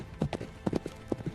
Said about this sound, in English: the moonlight-touched stone walls and the distant sound of horses echoed in the darkness